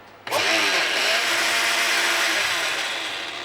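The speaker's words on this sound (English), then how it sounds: "take it off the stove and put it into a blender" Blender pureeing cooked pumpkin straight off the stove, starting with a sudden whir and then running loud and steady as a dense whine for about three seconds.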